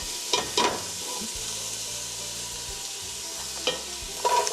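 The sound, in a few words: stirring minced garlic and chopped carrots in a soup pot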